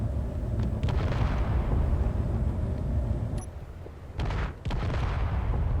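Heavy booming explosions from guns in the video game Space Engineers rumble one after another, loud and dense, with sharper blasts cracking out near the end, and no voices.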